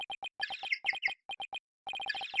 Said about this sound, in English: That's my ringtone.